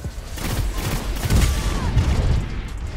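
Dense, loud rapid gunfire from the shooter game Destiny, close up, with a tight burst of overlapping shots and booms filling the whole moment.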